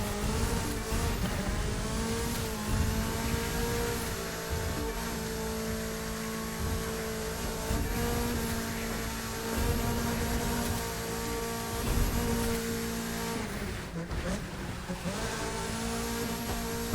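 Race car engine held at full throttle in The Crew 2, a loud sustained roar with steady harmonic whine and brief tire squeal, dipping once near the end before climbing again, with no talking.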